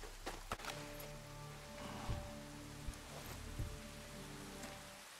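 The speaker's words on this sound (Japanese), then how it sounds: "雨降ってんのに。" Rain falls in the video game Ghost Recon Breakpoint as a faint, steady hiss of drops, with a few soft taps and thuds scattered through and no voices.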